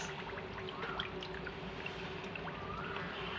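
Water poured from a glass into a bowl of semolina for makhandi halwa makes a faint, steady trickle that runs unbroken from start to finish.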